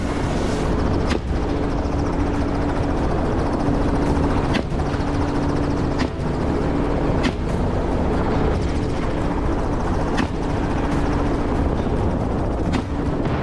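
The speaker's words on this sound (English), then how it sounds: "The chopper dipped low, giving us a perfect firing angle." A hunting helicopter flies low overhead, its rotor thudding loud and steady throughout with a continuous roar and periodic sharper blade slaps.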